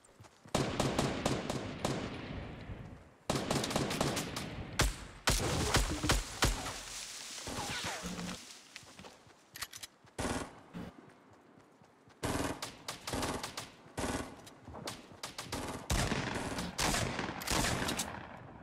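Fortnite gunfire in dense, loud rapid bursts and single cracks, nearly continuous volleys with short pauses, sounding close and intense throughout.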